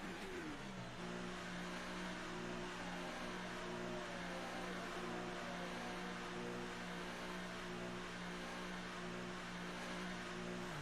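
An F1 2018 race car in the video game, engine holding a steady, droning mid-pitched hum with faint tonal whine as it rolls slowly into the pit lane at the Australia circuit, continuous and fairly quiet.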